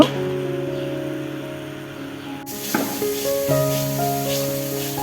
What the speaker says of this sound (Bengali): এই যে দেখুন মশলা নাড়াচাড়া করতেছে মশলাগুলো কষানো হয়ে গেছে